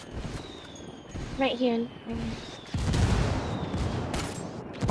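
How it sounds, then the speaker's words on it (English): Mortar fire and explosions in a squad-based military video game, with a burst of gunfire early on and dense, rumbling blasts later, heard under players' voice chat. "Enemy calling for indirect fire. Mortar."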